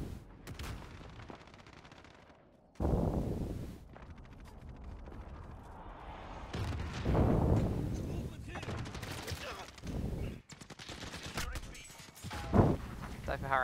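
AK-47 gunfire in Call of Duty comes in bursts and scattered shots amid game noise, with someone talking over parts of it.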